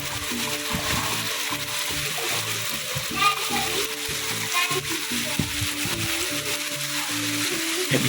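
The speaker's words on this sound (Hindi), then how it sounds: "ये देखिए पानी चल रहा है पूरा।" Rainwater runs and splashes steadily around a newly built house during a downpour, a continuous watery wash with voices talking over it throughout.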